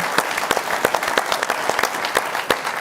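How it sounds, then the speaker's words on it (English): An audience applauds a contributor at a live football program, brisk crisp claps from a modest crowd, close and fairly loud throughout. "How about a round of applause for Angelo and his contribution?"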